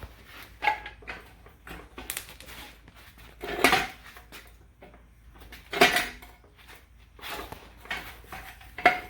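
A 9/16 open-end wrench on the nuts of a flipped Ford 9-inch rear end makes sharp metallic clinks and clanks in a few distinct bursts, with quiet shuffling between them.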